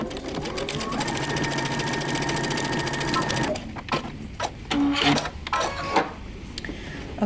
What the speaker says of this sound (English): we're going to sew these together using 5/8 of an inch seam allowance